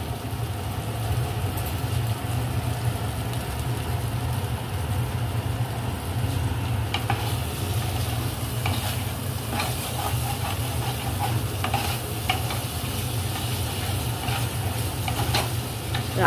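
Foloi fish curry frying in oil in a pan, a steady close sizzle with a low rumbling background, and clinking stirring scrapes in the second half.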